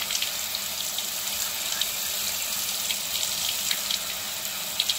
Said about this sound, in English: just use cold running water under the tap, not high pressure